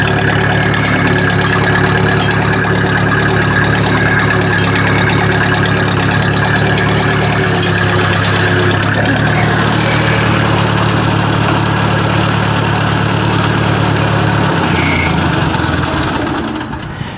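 An old Ford 800 tractor engine idles steadily and close, a loud, even low rumble running unbroken before it drops off near the end.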